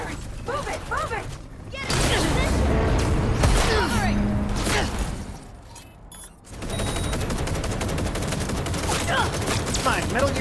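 Video game gunfire rattles in sustained, loud bursts with a short lull in the middle, while voices talk and shout over the shooting.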